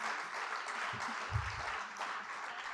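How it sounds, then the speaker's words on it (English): An audience at a journalism awards ceremony applauds the finalists. The applause is a continuous, moderately distant wash of many hands clapping, with a few low thumps mixed in. "Let's get a round of applause for the finalists"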